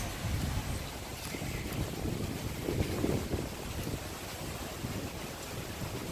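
Wind gusts across an outdoor woodland walk among trees in late autumn, a steady low rumbling buffet against the microphone that swells and eases without a break and with no voices.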